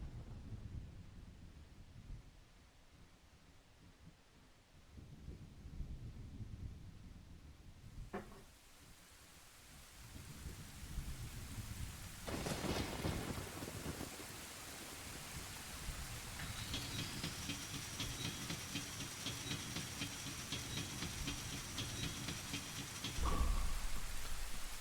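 Steady rain pours down in Zelda: Ocarina of Time, a dense wash of falling water with a couple of brief thunder cracks, then a bright ringing tone swelling in over the downpour.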